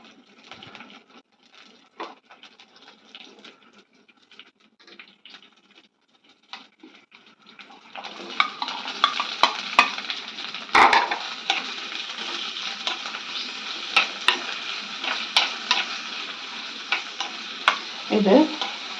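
Small onions hit hot oil with a squid roast, starting quiet with light stirring before a loud, steady sizzle takes over, punctuated by spoon scrapes.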